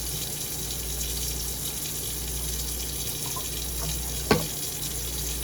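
Photographic fixer liquid pours steadily into a film developing container, a constant trickling wash throughout with a single sharp knock near the end.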